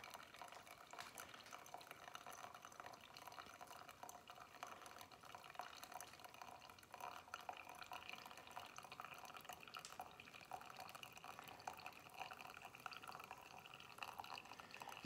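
Pour-over coffee brewed inside a Jayco Hummingbird 16FD camper while boondocking, trickling through the filter and dripping into the cup below, a faint, steady patter and trickle that continues alone throughout.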